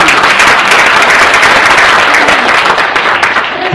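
An audience at a talk bursts into loud, close, continuous clapping that stays dense and even for several seconds before easing slightly near the end.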